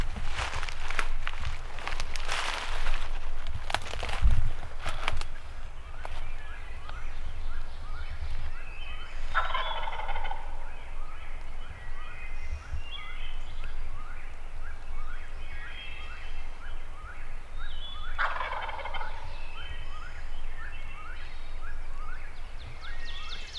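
A wild turkey gobbler in big Kentucky public-land woods gobbles twice in loud rattling bursts well apart, over rustling footsteps, leaf litter and faint birdsong at daybreak.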